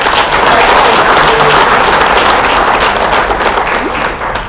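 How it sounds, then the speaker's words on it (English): A livestream audience gives a loud, dense thank-you round of clapping, steady throughout and fading slightly at the end. "Just give them a thank you clap for that."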